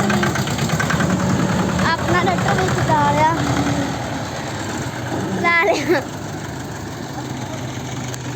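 A Mahindra tractor engine runs at a steady, low idle close by for the whole stretch while someone talks over it.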